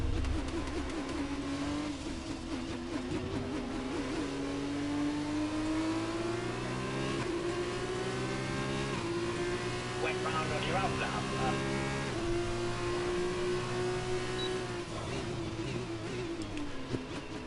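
An F2 race car in a racing video game at the Mexico round, pitting: a mid-pitched engine drones steadily and rises slowly in pitch, with a commentator talking over it.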